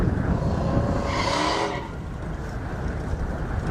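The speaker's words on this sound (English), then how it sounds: "Peter right there in the Mercedes, followed very closely by Caden in the Camaro." Race cars, a Mercedes followed closely by a Camaro, speed down an airstrip, their engines roaring loudly as they pass with a rising, sweeping whine that fades into a steady distant drone.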